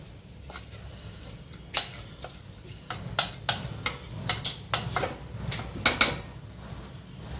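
A utensil clinks and scrapes against a metal pot of cluster beans in water in a quick, uneven rhythm, close by, with no voices.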